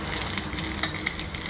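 Plain vermicelli (bambino) roasts lightly in a pan for sago payasam, giving a soft, close, continuous sizzle with faint stirring scrapes and a small tick in the middle.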